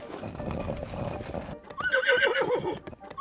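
A giant horse in the video game Breath of the Wild gives a loud, close whinny after a stretch of clip-clopping hooves and rumbling movement.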